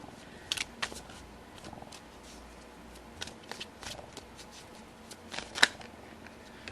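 Tarot cards are shuffled by hand up close, giving soft riffling and sharp flicking snaps in irregular bursts over a quiet room background.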